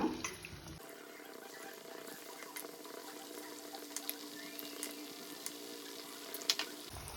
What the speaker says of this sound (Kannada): ಈಗ ಒಂದೊಂದು ಪೀಸನ್ನು ಇಡೋಣ, ಕರಿಯೋಣ